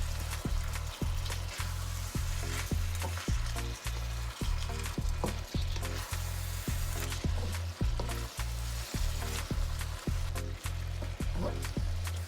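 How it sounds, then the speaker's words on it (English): Garlic and vegetables sizzle in a pan under a constant hiss, broken by regular, rhythmic scrapes and knocks of a utensil stirring them, close and fairly loud. "And then we're going to stir all of these together."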